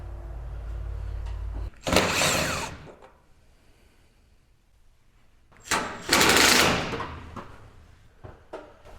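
A power driver backs self-tapping screws out of the sheet-metal outer panel of a Lanair waste oil heater, giving two separate whirring bursts of about a second each with a quiet pause between them.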